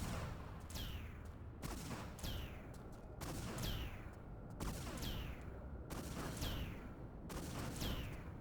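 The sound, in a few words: enemy gunfire in Tomb Raider 3 video game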